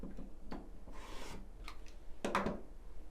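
Quilting fabric is sliced along a ruler, likely with a rotary cutter, in a few soft rubbing strokes with faint ticks between them. The sounds are quiet and close, with no talking.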